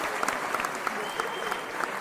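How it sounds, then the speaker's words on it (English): Comedy show audience clapping for the incoming host, dense continuous applause with a few sharp individual claps standing out, loud and close throughout. "Keep clapping until the host gets here."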